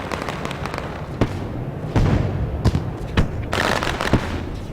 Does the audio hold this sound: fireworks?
yes